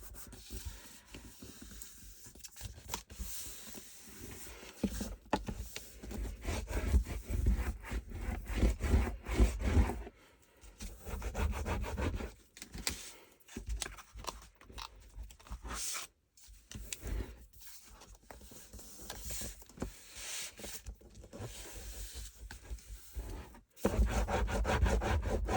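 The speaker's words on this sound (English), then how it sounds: "I like to burnish a bit on the top so I get flat" Paper being burnished by hand for a Graphic 45 Hello Pumpkin and Warm Wishes photo album: close, steady dry rubbing and scraping strokes running almost continuously, with a few brief pauses.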